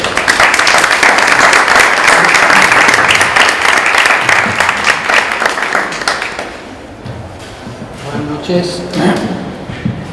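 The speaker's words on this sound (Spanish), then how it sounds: "Un aplauso y espero que disfruten" Audience applause at a Cartagena Piensa talk welcoming a speaker: dense, loud clapping from a full room for about six seconds, fading out as a single voice begins speaking.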